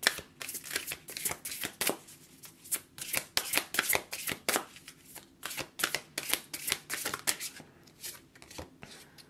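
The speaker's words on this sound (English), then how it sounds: "So I'm going to pull you one of these cards here." A tarot deck is shuffled and handled near the microphone, a long run of rapid papery riffles and flicks in an uneven rhythm, with no speech.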